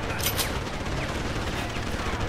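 Rapid gunfire fills a firefight in Deus Ex: Human Revolution, dense overlapping shots rattling continuously at close range with a brief louder burst near the start.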